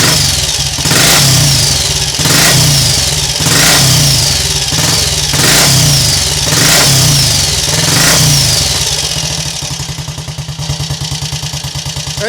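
A Triumph Scrambles Cub replica motorcycle engine revving hard on a cold start, loud and close, with repeated throttle blips rising and falling about once a second before settling to a rougher idle.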